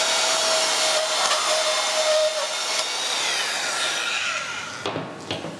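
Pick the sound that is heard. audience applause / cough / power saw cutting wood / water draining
power saw cutting wood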